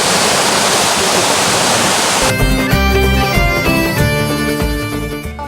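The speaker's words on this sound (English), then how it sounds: "this is the water they use to make the wine" Rushing water used for winemaking pours steadily as a loud broadband wash, then a hard shift brings in a harmonic, tonal drone over the flow that fades slightly toward the end; no speech.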